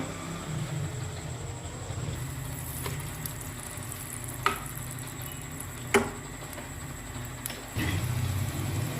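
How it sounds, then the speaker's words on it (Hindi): Paratha cooking in ghee on a griddle over a stove, a steady soft sizzle and hiss throughout with a few sharp clicks and taps of utensils, fairly quiet and close. "कितना अच्छा पराठा हमारा तैयार हो रहा है"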